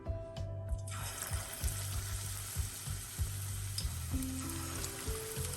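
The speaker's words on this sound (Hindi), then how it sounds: "अपने आप जैसा शेप आएगा मैं वैसा ही फ्राई कर रही हूँ" Methi pakoras frying in hot oil on a medium flame give a steady, close sizzle and bubble, with faint clinks and stirring noises underneath and no talking.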